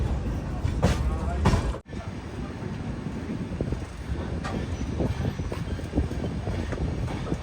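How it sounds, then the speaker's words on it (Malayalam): InterCity Express train arriving at Luni railway station on a hot day, with a continuous rolling rumble and rhythmic clicking of wheels over rail joints. A sharp break comes early on, and faint talk sits under the train noise. "ലൂണി റെയിൽവേ സ്റ്റേഷനിലേക്ക് ട്രെയിൻ എത്തിക്കൊണ്ടിരിക്കുകയാണ്"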